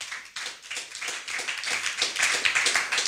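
A church congregation applauds together in a dense, continuous wash of many hands clapping, steady and fairly loud for several seconds.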